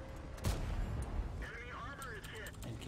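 A tank gun fires at a T-150 in a tank video game, giving one sharp broadband blast near the half-second mark over steady engine rumble and battle noise, with someone talking through most of the moment.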